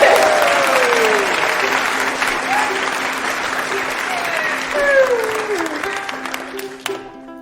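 Sustained, loud crowd applause for musicians at a live show, continuous clapping that tapers off near the end with faint vocal sounds mixed in.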